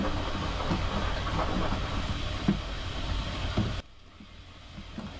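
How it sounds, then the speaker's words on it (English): A washing machine runs in a home kitchen during cooking, giving a steady broadband churning rumble that fills the background. The noise cuts to a much quieter hum near the end, and no one talks. "Yeah, got a bit of washing on in the background."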